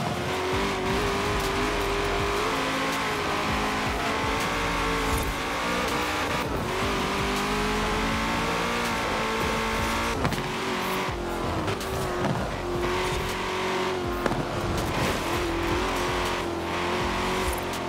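Hennessey Venom GT supercar in Forza Horizon 4 drives with a loud, continuous engine drone whose pitch shifts through gear changes and revs, with occasional tire noise and no talking.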